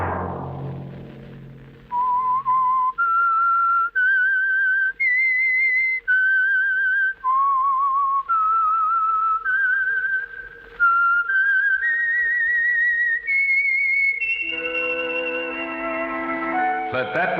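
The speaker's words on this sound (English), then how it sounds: "Let that whistle be your signal for the Signal Oil program, The Whistler" A whistled melody, the theme of the radio program The Whistler, rings out clearly and alone, a series of sustained rising and falling notes with a low steady drone beneath, ending as a brief musical chord takes over.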